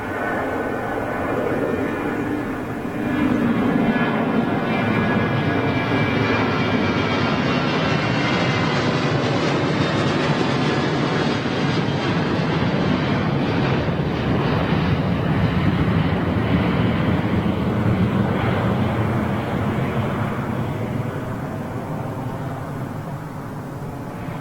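A Boeing 737 airliner at Gatwick Airport roars loudly and steadily throughout, its engine noise swelling as it passes and easing off toward the end, with wind buffeting the microphone.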